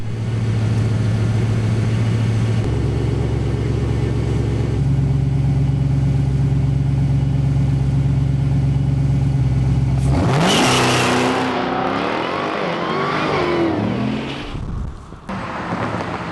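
A 2018 Dodge Demon V8 muscle car and a four-turbo Bugatti Veyron line up for a drag race, engines idling and revving loudly and close, then a sudden roaring launch with rising, shifting engine notes fading as the cars pull away.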